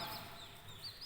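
A chicken clucks faintly in short bursts, distant and soft over a hissy outdoor background, lasting just about a second.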